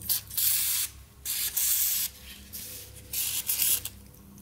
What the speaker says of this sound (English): Let's get some WD-40 down there.